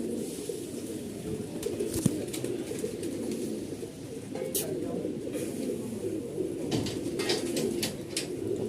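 A flock of mostly Punjabi pigeons with a couple of Madrasi birds coos steadily nearby, the low throaty calls overlapping continuously. Occasional sharp clicks and light rustles break through.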